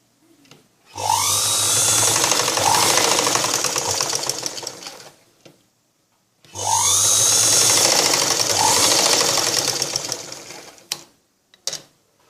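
A sewing machine runs in two long loud bursts while stitching blouse shoulder seams twice, with a steady rapid whirring hum and a short pause between runs, ending with a few faint clicks.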